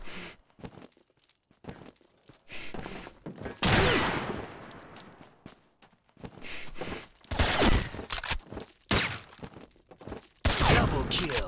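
Sniper rifle fire during a round on the Junk Flea map of Combat Arms, with sharp bursts of shots and some scattered echoing blasts across the clip, loud and close.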